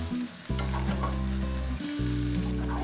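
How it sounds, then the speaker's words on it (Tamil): Prawns and onions stir-fried in hot oil, a steady close sizzle broken by scraping stirs, with a brief dip before the frying surges back. "சேர்த்துட்டு இன்னும் ஒரு 2 நிமிஷம் இப்படியே கிளறிக்கோங்க கைவிடாமல்."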